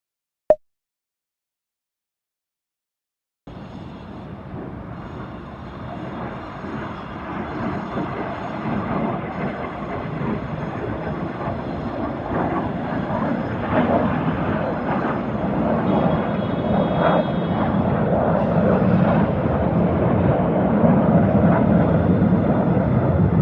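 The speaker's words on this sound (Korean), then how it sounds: "창문을 열어두면 비행 소음 때문에 통화가 어려울 정도였습니다." An aircraft passes overhead, heard from a high-rise apartment: after a brief click and a few seconds of silence, a broad roaring engine rumble sets in and swells gradually louder toward the end.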